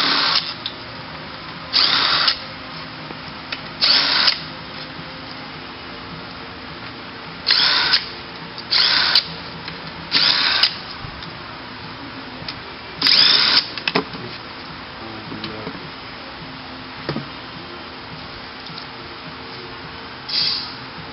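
Power drill or impact driver removing bolts from a mini CVT transmission during teardown: loud, close whirring bursts of one to two seconds, spaced irregularly over a steady background hum.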